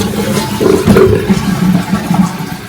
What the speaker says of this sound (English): And we got a good flush.